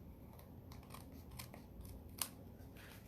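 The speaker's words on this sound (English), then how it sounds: "and then I'm gonna trim" Scissors trimming card with a quiet, steady run of small snips and crisp cuts over low background noise, one slightly sharper click near the end.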